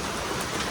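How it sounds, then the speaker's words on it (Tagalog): Rain falls in a steady, dense hiss with no gaps, a brief close wash of drops on a surface. "inabot na po ako ng ulan"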